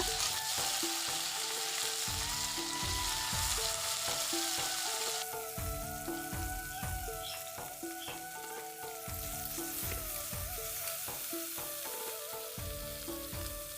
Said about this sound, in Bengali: এই যে ভাজাটা যে বসে দিছুম, কলা ভাজাটা।